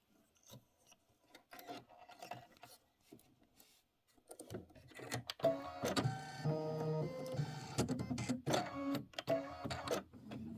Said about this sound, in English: we're going to go ahead and do the placement stitch first